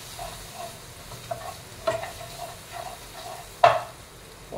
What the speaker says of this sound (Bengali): মশলাটা দিয়ে ভালো করে কষিয়ে নিতে হবে।